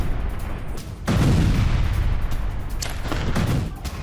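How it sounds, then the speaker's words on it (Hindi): Heavy artillery shelling by the IDF in Rafah, a deep rumbling boom swelling in around one second and rolling on as sustained loud blast noise, with a second surge near the end. "राफा में आईडीएफ की जबरदस्त शेलिंग इस वक्त भी जारी।"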